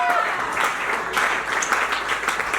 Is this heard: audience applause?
yes